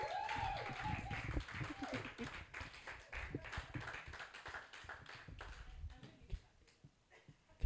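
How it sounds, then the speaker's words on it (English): Audience applause for a poet at a small poetry event: scattered, uneven clapping from a modest crowd, fairly faint and fading toward the end, with a brief voice at the start. "Another round of applause for Bill."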